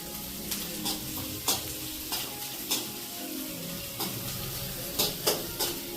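Spices crackle in a small amount of hot oil for a puffed-rice chivda, a soft continuous sizzle with occasional louder pops and spoon taps on the pan.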